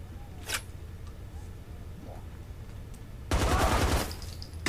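Gunfire in the shooter game 9mm: a brief shot early on, then a loud burst of rapid automatic fire around the middle of the clip, standing out against quiet background noise.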